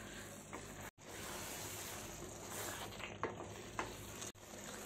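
Small cubed potatoes roasting in masala over a medium flame, a steady close sizzle with occasional stirring scrapes, briefly cut out twice.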